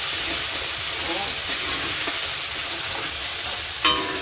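A paste of ginger and cumin fries in oil with a steady, close sizzle and light stirring scrapes, ending in a brief sharp clink.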